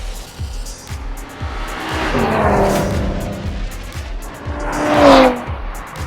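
A Tesla Model 3 Performance is driven hard on a race track, its electric motor whine rising and falling as tires squeal through corners. The sound is close and continuous with no voices.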